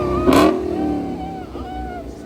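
A Dodge Hellcat Challenger engine revs hard in a short loud burst, then settles into a rumbling idle with people talking over it.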